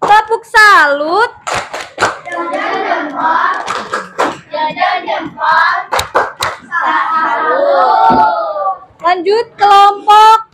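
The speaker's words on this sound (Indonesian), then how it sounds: "Kita kasih tepuk salut." A classroom of children clapping in rhythmic patterned bursts, loud and close, with sharp claps between stretches of children chanting and shouting together.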